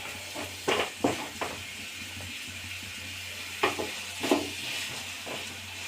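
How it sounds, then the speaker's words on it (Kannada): Garlic and spices frying in a pan for a mushroom garlic fry, a steady low sizzle broken by several sharp stirring scrapes in small clusters, close and moderately loud. "ಹಸಿ ಸ್ಮೆಲ್ ಹೋಗೋವರೆಗೂ ನೀಟಾಗಿ ಹುರ್ಕೊಳ್ಳಿ."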